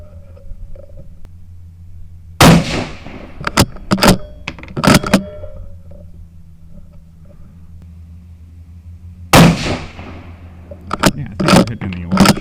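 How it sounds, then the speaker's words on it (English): Three sharp rifle shots, fired as a grouping through a Gunnr Odin 1-10 optic, crack out loud and close, each one trailing off into echo, with a low idling rumble and a bit of handling noise between them. "we're going to do a 3-shot group"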